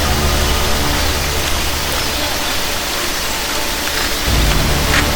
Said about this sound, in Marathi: आनी पावस स्टार्ट जाल्लो आसा.